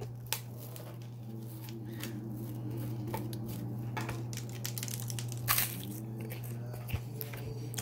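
Someone eats comb honey at breakfast, close chewing with soft waxy squishes and a few sharper crunches over a constant low background hum.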